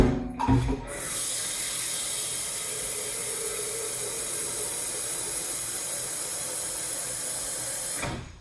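Tap water runs steadily into a deluxe cooking blender pitcher held under a sink faucet, a continuous close hiss that starts abruptly after a brief clatter and stops sharply at the end, with no talking.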